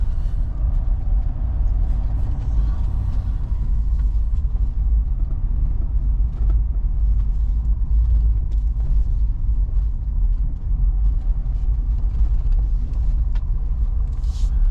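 A Ford Super Duty pickup truck accelerating from 0 to 60, heard from inside the cab as a loud, constant engine and road rumble with no breaks or talking.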